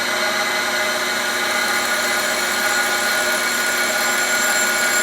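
Tool-post grinder on a Hendey toolroom lathe taking a grinding pass on the workpiece, a steady high-pitched whine with a constant motor hum, loud and unbroken throughout.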